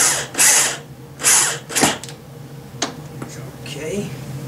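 A power screwdriver drives screws into the metal panel bracket of a Roland KR 370 digital piano, with two or three loud buzzing bursts of whirring followed by a few softer clicks and rattles as the panel is refitted.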